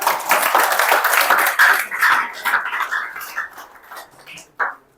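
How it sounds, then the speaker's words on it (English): School audience at a high school scholarship program clapping; lively, loud applause that tapers into scattered, uneven claps and a few sharp final hand claps, with some background voices mixed in. "A round of applause for Aneke TV."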